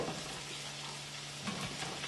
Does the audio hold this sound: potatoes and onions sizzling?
yes